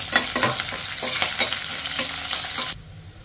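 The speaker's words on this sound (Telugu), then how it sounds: "చూడండి, పోపు అనేది బాగా వేగాలి, మనకు అప్పుడే పప్పు అనేది కమ్మగా ఉంటుంది" Onion, garlic and curry leaves sizzle in hot oil as a tempering for dal, with steady frying crackle and repeated stirring scrapes, loud and close, before the sound drops sharply near the end.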